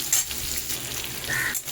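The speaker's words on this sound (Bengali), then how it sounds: "আলু, বরবটি আর ঝিঙে একটু হালকা নাড়াচাড়া করে নিই।" Potatoes, long beans and ridge gourd get a light stir in a frying pan, giving a faint, short sizzle with a soft scrape of a spatula partway through.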